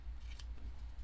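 A single quick snip of scissors trims off ribbon ends close by, with a low hum underneath.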